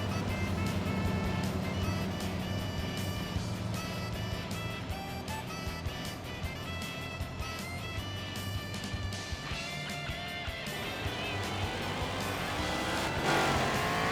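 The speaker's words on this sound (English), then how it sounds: "Also, lots of noise because race cars." Race cars in Gran Turismo 4 roar continuously around the Autumn Ring circuit, with engines revving and shifting pitch as cars pass. The sound is loud and dense throughout, with no talking.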